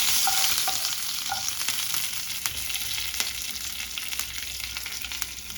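Dried red chillies and curry leaves sizzle in hot oil, a bright steady crackle with sharp pops and spits, close and alone.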